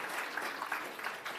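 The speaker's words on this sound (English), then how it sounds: "can we have another round of applause for Speaker Amelie?" Audience applause after a talk at a polar science event, a short faint wash of many hands clapping heard from a distance.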